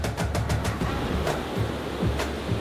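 Ocean surf at Bondi Beach in Australia, a continuous wash of breaking waves with soft rhythmic thuds rising and falling at a moderate level, with no voices.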